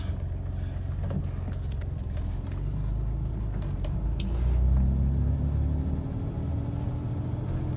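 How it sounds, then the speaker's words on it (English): A manual-swapped BMW iX electric car on the move, heard from inside as a steady low road rumble and drivetrain hum that swells slightly midway, with no talk. "So I'm driving an iX."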